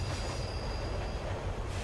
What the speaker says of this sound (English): As the train slowly moves south,